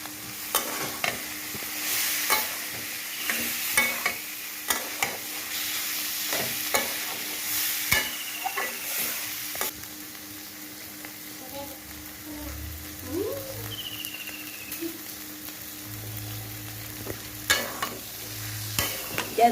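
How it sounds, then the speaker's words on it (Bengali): Boiled mung dal goes into a hot pan and is stirred for a Bengali vegetarian mung shukto, a soft steady sizzle with intermittent spoon scrapes and knocks, close by, with faint low background hum. "আগের থেকে ওই সিদ্ধ করা মুগের ডালগুলো দিয়ে দিলাম।"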